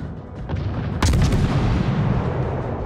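Heavy naval guns firing in World of Warships from the French tier-one ship Bougainville, a loud booming salvo about a second in followed by rolling rumble and lesser thumps, no voices.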